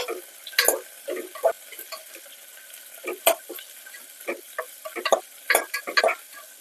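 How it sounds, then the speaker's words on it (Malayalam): Sliced onions and green chillies stirred in a frying pan for a Kerala-style potato stew, with a steady soft sizzle under repeated scraping strokes of a spoon at an uneven rhythm, close and moderately loud. "കട്ട് ചെയ്ത് വെച്ചേക്കുന്ന മുളക് ഇട്ട് കൊടുക്കാം പച്ചമുളക് നമുക്കൊന്ന് ഇളക്കി കൊടുക്കാം"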